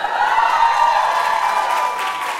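A university audience at Brown University applauds and cheers in a loud, steady wash of clapping and whoops that holds for a few seconds without easing.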